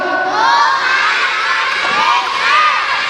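A crowd of children shouts and cheers loudly together at a school Christmas event, a dense, continuous wall of high voices that swells and dips slightly throughout.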